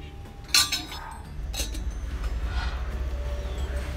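A metal lid clinks down onto a cooking pot of Vietnamese sweet rice-ball soup with palm sugar, one sharp clatter followed by a lighter rattle, close by over a low steady background hum.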